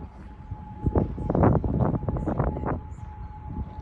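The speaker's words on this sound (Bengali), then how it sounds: "সাইরেন বাজতাছে" A distant air raid siren in Kuwait holds a steady, continuous tone beneath louder bursts of rumbling, wind-like noise during an attack.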